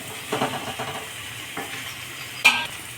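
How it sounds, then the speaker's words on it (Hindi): Diced potatoes stirred into fried spiced masala in an iron kadai, soft sizzling under a few scraping spoon strokes, with a sharp clank of metal near the end. "आलू डाल के हमें एकदम आराम से चलाना है।"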